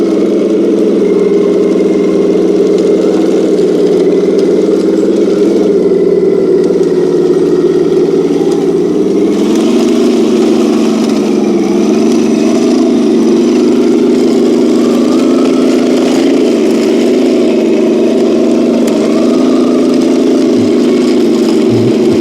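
An RC King Tiger tank drives with its motor running in a continuous, loud, droning hum that dips and shifts in pitch partway through as it turns and moves.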